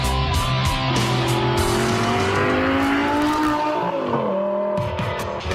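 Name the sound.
Lamborghini Murcielago engine revving and accelerating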